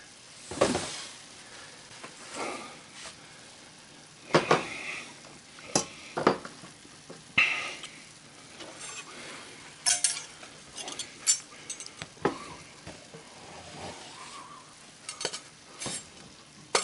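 Onions and jalapeno peppers sizzle in a hot pan with other already-cooked canned ingredients, a steady frying hiss broken by sharp scrapes and clinks as a utensil stirs them, fairly close and with no talking.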